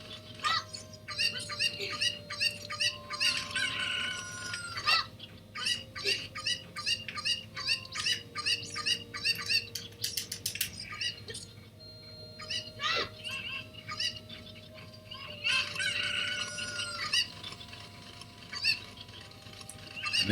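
Chicken clucks and chirps from Zelda: Ocarina of Time come in repeated bursts of short, bright calls over a low game hum, fairly faint and spread across the whole stretch.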